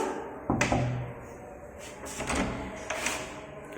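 Knocking on a door, a few sharp raps at the start and a couple more later, moderately loud and close, over a busy room murmur.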